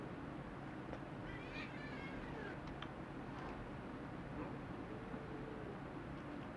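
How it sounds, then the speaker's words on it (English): A pet cat growls and meows faintly in a quiet indoor room, low drawn-out vocal sounds under a steady background hum. "Now this Miss Kitty just growls all the time like this"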